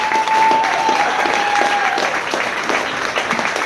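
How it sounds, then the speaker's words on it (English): An audience at a city event in Fort Smith gives a round of applause for a hosting sponsor, loud continuous clapping from a crowd with a sustained tone running beneath it early on. "So can we get a round of applause for Diggs?"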